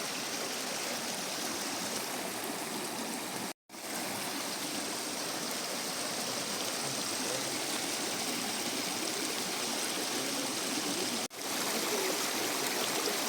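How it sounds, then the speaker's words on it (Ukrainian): A mountain waterfall splashing onto stones, roaring steadily and loudly throughout, with two very brief dropouts. "Послухайте, як вона шумить, спадаючи на каміння."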